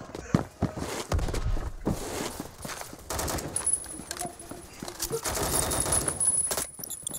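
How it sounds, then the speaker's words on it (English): Rapid SCAR-H rifle fire in the Roblox game Phantom Forces, bursts of sharp shots and clatter mixed with footsteps and game noise, loud and close throughout. "I don't even know who was shooting at me right there."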